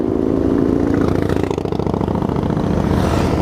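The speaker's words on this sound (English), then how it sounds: "So quite a number of bikes coming past." About sixty Harley-Davidson motorcycles pass close by on a group ride-out in Budapest, a loud steady rumble of engines with revving and no talk.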